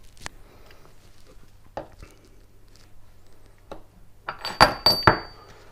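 A metal washer slides onto a Yamaha XS1100 gearbox shaft during a workshop rebuild, giving several small metallic clinks that build to a few sharp, close clanks near the end.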